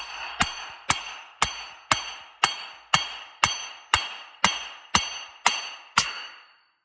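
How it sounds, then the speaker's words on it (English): Hammer striking a clutch puller to split the halves of a 2021 Ski-doo 850 Turbo E8 P-drive clutch, twelve sharp metallic clanks at a steady, slightly quickening rhythm, each ringing briefly, close and alone. "then you're gonna smack the puller to separate the two halves"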